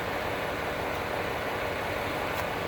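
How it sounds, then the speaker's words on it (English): Continuous low rumble of fire truck engines idling nearby, steady and unchanging with no voices. "fire trucks are idling up here today"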